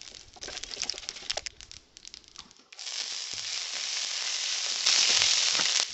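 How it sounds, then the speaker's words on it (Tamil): Lentils with dried red and green chilies fry in hot oil for a tempering: scattered crackles at first, then a loud, continuous close-up sizzle that swells toward the end. "பருப்பு சேர்த்து நல்லா வறுத்து விட்டுட்டு கூடவே கடலை பருப்பு கொஞ்சம் சேர்த்துக்கலாம்"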